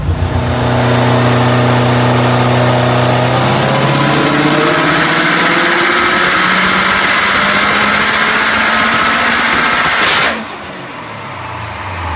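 A Gen II car fitted with a GTX3576R turbo, ID1700 injectors, a single Walbro 450 fuel pump and running on E85 revs hard and loud, climbing steadily in pitch for about ten seconds before abruptly dropping off to a lower drone, with no talk.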